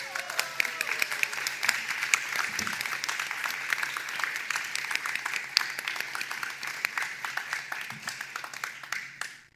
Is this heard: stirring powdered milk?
no